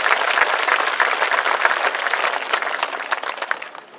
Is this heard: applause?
yes